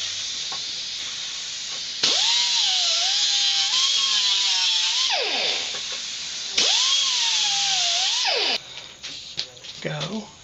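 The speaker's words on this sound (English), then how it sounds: "So why do you deburr it? For a better weld." A pneumatic tool deburrs sheet metal before welding on a van body panel, its loud hissing whine ramping up and down in two long bursts with a short pause between, then clattering handling sounds.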